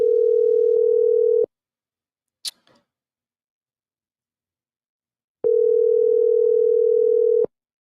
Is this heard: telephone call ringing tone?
yes